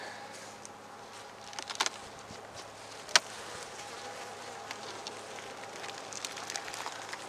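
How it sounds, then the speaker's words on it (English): Dense buzzing of honeybees in a spring hive packed full, a steady close hum with a few sharper bursts, no talking. "I've got bees above, below."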